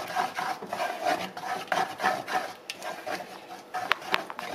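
Spoon stirring melted chocolate and cream in a bowl set over a bain-marie, uneven scraping and rubbing strokes against the bowl with occasional light clinks, close and fairly quiet, no talk.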